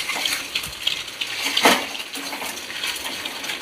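A spatula clatters and scrapes against a pan as a fried egg omelette is chopped into small pieces, irregular metallic taps and scrapes over a faint sizzle.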